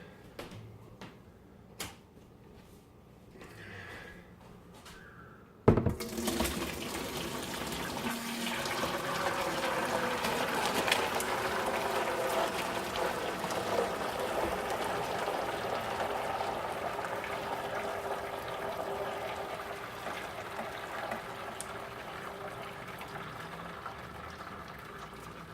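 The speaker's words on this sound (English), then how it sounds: "So next step is to strain this mess. I've got that set up here with some cheesecloth." Homemade fish stock pours steadily through a cheesecloth-lined strainer, a loud, continuous close-up splashing and gushing that starts abruptly after a few seconds of quieter kitchen handling noises and runs to the end with no talking.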